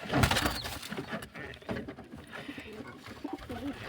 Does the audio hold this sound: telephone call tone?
no